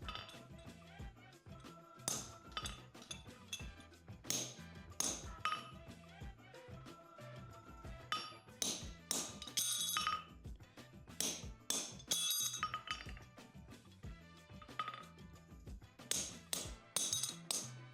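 Hand hammer striking a fuller on cold aluminium heart bar stock, irregular bursts of sharp ringing metallic taps with short pauses between runs, close and clear.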